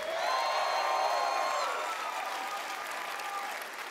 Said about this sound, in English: Can I get another round of applause, please?